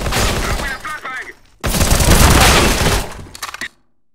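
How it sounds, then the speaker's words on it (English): A flashbang grenade thrown in the video game CS:GO: two loud, harsh bursts of gunfire-like noise fill the clip, the second longer and denser, trailing into a few crackling pops before silence. "I am throwing a flashbang"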